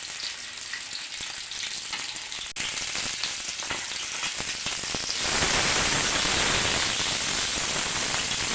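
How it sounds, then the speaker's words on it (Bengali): Katla fish rubbed with turmeric and salt frying in hot oil, a dense crackling sizzle like rain that grows louder and fuller partway through, with no voices. "ভেজে নিচ্ছি ভালো করে, হলুদ লবণ মাখিয়ে নিয়ে এখন ভাজতেছি।"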